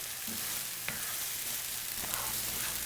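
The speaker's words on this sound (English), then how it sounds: "I'm going to saute these for about 10 minutes, get it to a nice reddish brown" Sambal sautés in a pan for nasi lemak, giving a continuous close frying sizzle with a few light stirring clicks and scrapes.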